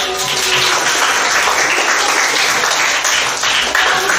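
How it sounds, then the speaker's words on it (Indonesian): Students or participants clap for a first-place quiz winner in an Indonesian classroom or training session, a steady, fairly loud round of applause lasting the full few seconds. "Oke, juara satunya adalah Kifli. Tepuk tangannya"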